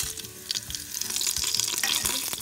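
Bay leaf and whole spices crackle and sizzle in hot tadka oil for a mint coconut rice, a steady hissing spatter with scattered pops, close and moderately loud, no talking.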